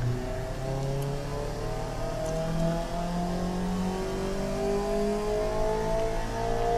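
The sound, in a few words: engine revving in Automation car-building video game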